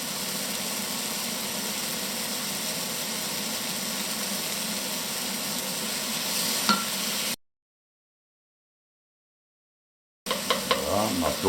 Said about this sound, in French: ma tomate devient progressivement pulpe en cuisant